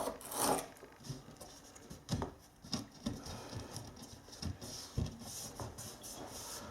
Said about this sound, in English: I'm just going to use the Surform again, just to shave back a little bit of the board